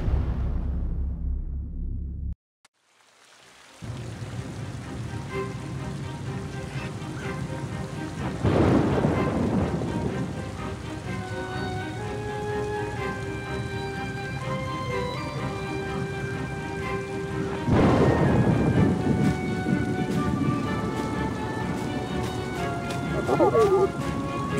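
Thunderstorm with steady rain from the video game Oceanhorn 2, heavy rain hissing throughout with rolling thunder swelling twice, under a narrating voice.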